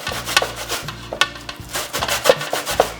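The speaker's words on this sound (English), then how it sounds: "So I'm actually grating my cocoyams." Cocoyams rubbed against a hand grater in a kitchen, a steady run of close rasping scrapes in a regular back-and-forth rhythm, with no one speaking.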